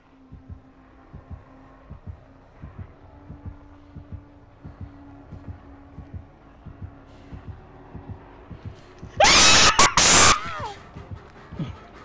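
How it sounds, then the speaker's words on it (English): A loud, piercing survivor scream bursts out in Dead by Daylight during a tense chase in the wrecked shop at Autohaven Wreckers, over a steady thumping heartbeat that throbs through the whole scene. "Wait for it, the scream is coming."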